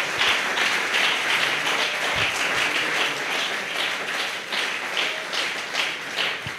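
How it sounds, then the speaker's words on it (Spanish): A church congregation bursts into sustained applause during a Spanish-language service, a dense steady wash of many hands clapping at close range with a few brief louder claps standing out. "¿Alguien puede dar un aplauso al Señor?"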